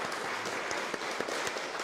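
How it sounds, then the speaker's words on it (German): Applause from an audience at a talk, a continuous wash of many hands with a few sharper individual claps standing out, moderately quiet and steady throughout. "Ich finde, er hat nochmal einen Applaus verdient."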